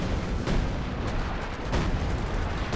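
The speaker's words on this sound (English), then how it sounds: "It's basically more and more artillery sort of gets fired at it." Artillery fire in the strategy game Company of Heroes 2, a steady roaring battle bed with a few muffled thumping impacts, moderately loud and without speech.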